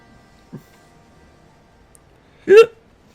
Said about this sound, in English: Hiccups. Oh, hiccups.